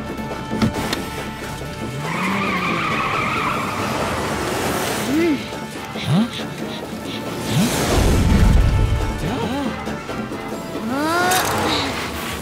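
Cartoon car scene with engine whooshes, skids and crashing impacts at varying distances, heard among other animated sound effects.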